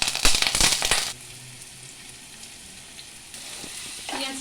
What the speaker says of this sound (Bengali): পেঁয়াজটাকে আমি হালকা ব্রাউন করে ভেজে নেব, খুব বেশি ব্রাউন করব না